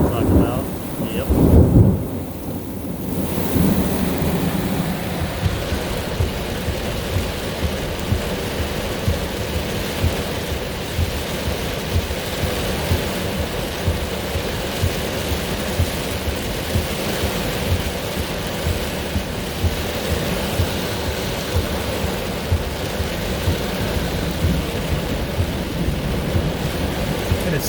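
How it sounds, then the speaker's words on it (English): Thunderstorm from a weak supercell with heavy rain and strong wind: a loud thunder crack near the start rumbles over a constant, dense roar of pouring rain and gusting wind that continues throughout. "There's almost no hesitation between the thunder."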